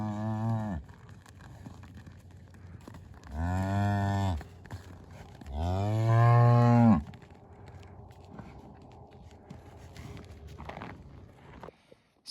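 Cattle low and moo inside a winter cattle shed on a ranch, three long, loud calls spaced a few seconds apart, with quieter shuffling and hoof sounds between them and no talk.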